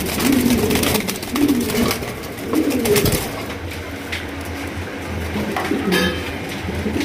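Bombay pigeons coo in a repeated low rolling rhythm, several calls close by, with background rustle and clatter of a bird market or loft.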